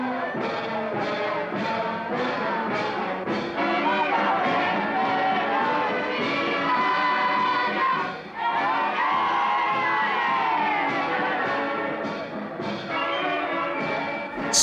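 A large festival crowd in the streets of Gubbio, Italy, with many voices shouting, whooping and cheering together in a dense, continuous roar, rhythmic chant-like bursts at the start, and a brief dip midway.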